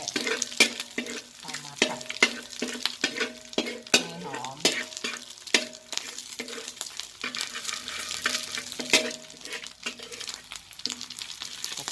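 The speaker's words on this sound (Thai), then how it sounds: "ก็เจียวกระเทียมให้เหลือง" Garlic frying in a small amount of oil while being stirred for a Thai stir-fried instant noodle dish, with a steady sizzle under repeated clinks and scrapes of a utensil against the pan.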